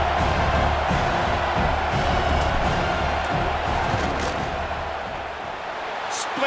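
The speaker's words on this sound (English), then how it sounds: "This crowd trying to do its part to get inside the kicker's head." A packed stadium crowd at a college football game at Iowa roars loudly and continuously while a kicker lines up a field goal, a broad wall of cheering that fades slightly near the end.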